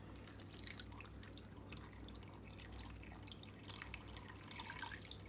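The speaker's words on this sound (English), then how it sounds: "We're going to add the water in." Water splashes and trickles continuously into a children's water play tray holding lemons and limes, a close, busy, steady wash of dripping and pouring with no talk.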